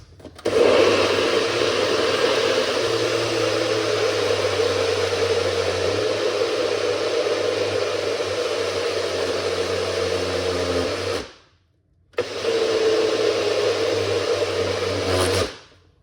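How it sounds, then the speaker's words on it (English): A blender whirs loudly and steadily, its pitch shifting slightly as it works, then stops briefly before running again for a few more seconds. "And we're going to blend it up."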